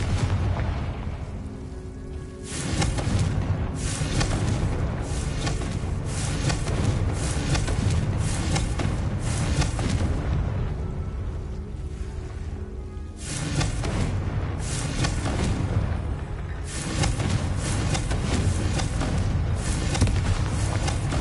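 Deep booming blasts from the Confringo explosive spell in Hogwarts Legacy rumble in dense, repeated waves, loud and sustained, with a brief lull before the explosions surge again.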